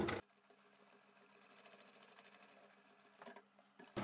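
A sewing machine stitching fabric with a quiet, steady mechanical whir that speeds up slightly near the end, bracketed by brief louder handling noises at start and finish.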